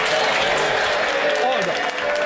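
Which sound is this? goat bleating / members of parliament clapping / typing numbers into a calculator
members of parliament clapping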